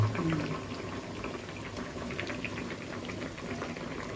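A pot of fish curry bubbles and simmers in a steady low gurgle, close up, with a faint voice briefly at the start.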